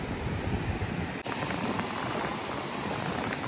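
Steady roaring wind buffeting the microphone outdoors at a beach in the Philippines, a continuous broadband rush with a brief dip partway through, no voices.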